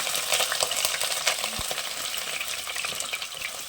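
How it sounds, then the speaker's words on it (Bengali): Cut broccoli fries in hot mustard oil in a wok, a loud, steady sizzle with stirring scrapes and one brief low thump. "আমি এখানে একটা ছোট ব্রোকলি কেটে নিয়েছি, এটা দিয়ে দিচ্ছি, এটা ভেজে নেব।"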